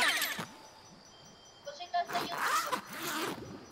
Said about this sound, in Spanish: ¡Una cremallera!